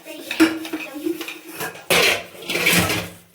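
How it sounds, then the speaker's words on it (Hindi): Pots, pans and cutlery clatter and clink as dishes are washed in bitterly cold weather, with busy irregular knocks and a louder burst of scraping and rattling near the end, while a voice talks faintly in the background. "देखो इतनी ठंड में बर्तन धो रही है"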